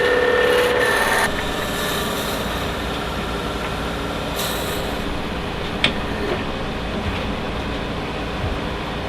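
Long drill bit boring a hole into a wooden game call in a custom call workshop: a loud, continuous grinding rasp that holds steady throughout, with a brief sharper scrape near the middle.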